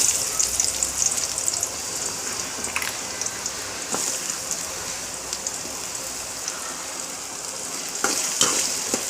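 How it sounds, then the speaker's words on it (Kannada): Finely chopped raw mango frying in oil with popped mustard seeds, a continuous bright hiss like rain with a few sharp stirring clicks, nothing spoken. "ಸಾಸಿವೆ ಎಲ್ಲ ಸಿಡಿದ ನಂತರ ಸಣ್ಣದಾಗಿ ಹೆಚ್ಚಿರೋ ಮಾವಿನಕಾಯಿ ಹಾಕ್ತಾಯಿದ್ದೀನಿ"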